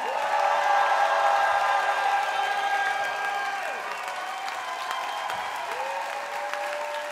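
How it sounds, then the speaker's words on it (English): Concert crowd at a Brighton Festival show applauding a support act, steady dense clapping with some cheering that fades slightly toward the end, with a sustained musical tone lingering underneath. "Can I have one more round of applause for my wonderful support act"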